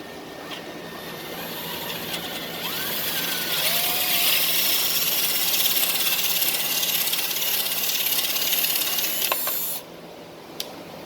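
Broadband whine of a drill boring out the end of a Native American flute with a 5/8 bit, rising around two seconds, holding steady and loud for about seven seconds, then cutting off abruptly.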